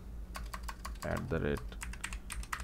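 Rapid, close clicking of keys as someone types code on a computer keyboard, with a brief spoken murmur partway through.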